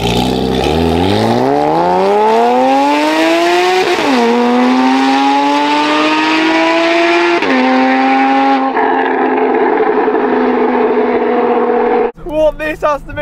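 Modified Porsche Cayman engine revving hard through the gears, a loud rising exhaust roar with two sharp shifts, then a lift-off with crackling burbles and overrun pops, a voice breaking in at the end.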